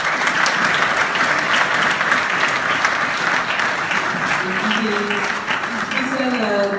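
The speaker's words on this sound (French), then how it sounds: "Merci de les applaudir." An audience applauds panelists at a health and digital technology forum, with sustained, dense clapping filling the room and steady loudness throughout.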